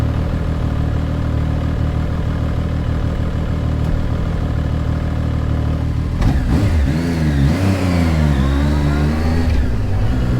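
A Chinese motorcycle idles with a low steady rumble, then revs sharply a few times, the pitch rising and falling in quick bursts.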